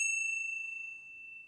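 A bell struck once during a Wienerlied livestream, a clear pure ding that rings on steadily and slowly fades, alone with no talk.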